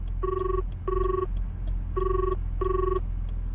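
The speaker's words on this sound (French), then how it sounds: "le chauffeur saisit son téléphone et compose le numéro d'urgence" A telephone rings in four evenly spaced double-burst electronic trills, loud and steady over low background hum; it belongs to a taxi driver in Busan dialing an emergency number.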